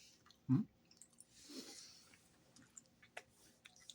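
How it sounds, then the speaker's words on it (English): Someone chews a Burger King french fry close to the mic, with a soft crunchy bite followed by quieter wet mastication and light breathing, and no talking. "I'm going to swallow down this fry real quick, finish chewing it up first"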